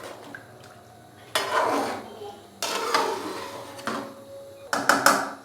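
Metal clanks and scrapes as a lid is lifted and handled on a biryani cooking pot in a home kitchen, several sharp knocks separated by quieter pauses.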